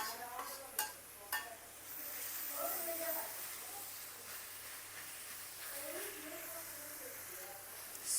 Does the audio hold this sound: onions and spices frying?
yes